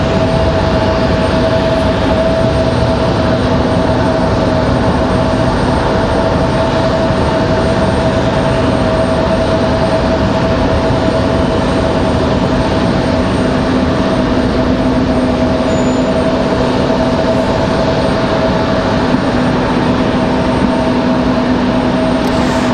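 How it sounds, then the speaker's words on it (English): An American Eagle Embraer E175 regional jet departs Raleigh-Durham International Airport, giving off a steady, loud engine drone with a sustained whine that stays even across the whole stretch, heard without talk. "E175 American Eagle departure over here."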